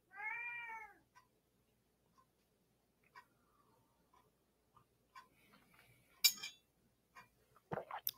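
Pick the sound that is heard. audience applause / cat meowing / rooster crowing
cat meowing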